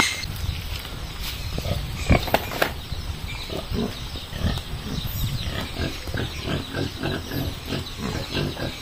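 Pigs in a pen grunt and snuffle close by, with frequent short oinks and rustling over a busy outdoor farm background.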